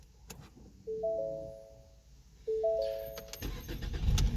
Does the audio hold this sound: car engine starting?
yes